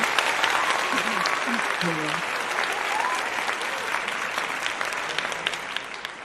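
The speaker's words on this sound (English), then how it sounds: "She always giving me hand claps." Applause sound effect of a crowd clapping, a dense, steady wash of many hands that fades slightly toward the end, with faint voices underneath.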